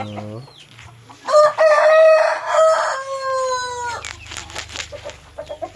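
Rhode Island chickens on a small farm, one bird giving a drawn-out crow close by while others cluck softly around it, with a few scattered clucks afterward.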